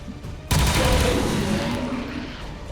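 Gunfire at enemies in the modded XCOM 2 War of the Chosen, a sudden loud burst of shots striking at once, then a sustained rattling decay that fades over a couple of seconds.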